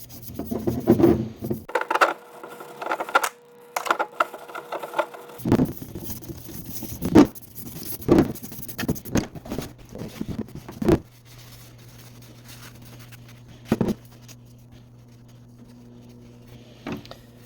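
Close, scratchy brushing strokes scrub a vintage Snap-On ratchet soaked in WD-40, irregular rasping bursts with occasional clicks and a faint hum lingering behind, no talking.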